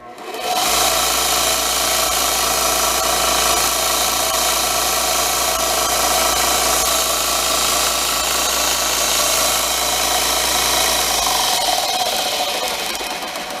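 A new belt sander runs loud and steady at full speed for about eleven seconds, a dense grinding roar with a low motor hum, then spins down.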